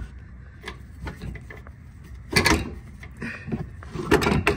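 Metallic knocks, clunks and scrapes come from an alternator being worked loose in the engine bay of a 2005-2007 Mazda 6, irregular and close, growing busier toward the end.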